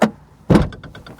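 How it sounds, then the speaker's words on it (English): A concept car coupe's door shuts with one solid thud, then a brief rattling settle follows, close and loud in a quiet interior. "how do I shut the door?"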